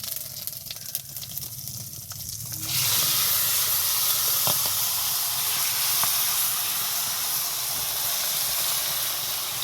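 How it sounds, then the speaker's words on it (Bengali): Chicken pieces for biryani hit hot oil with cumin seeds in a pan, setting off a sudden loud, continuous hiss and sizzle after a quieter stretch of faint kitchen clatter. "এখন মাংসটা এখানে ঢেলে কষাই নেব"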